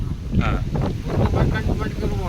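Strong wind at Aazhi Kaal seashore buffets the microphone in loud, continuous rumbling gusts, while a voice is partly heard under the roar.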